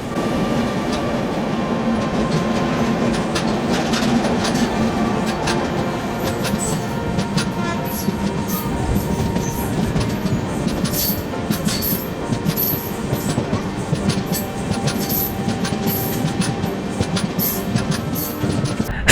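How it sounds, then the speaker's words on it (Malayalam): A Shalimar–Trivandrum bi-weekly express train pulls into a station platform with a loud, steady rumble and rhythmic wheel clatter on the rails, filling the whole stretch with no voices. "ഈ കടന്നു വരുന്ന ട്രെയിനാണ് ഷാലിമാറിൽ നിന്ന് ട്രിവാൻഡ്രം വരെ പോകുന്ന Shalimar Trivandrum by weekly express"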